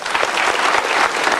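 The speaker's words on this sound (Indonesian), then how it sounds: "Kita berikan tepuk tangan untuk mereka." Short burst of full applause from a studio audience on a motivational talk show, dense, even clapping throughout.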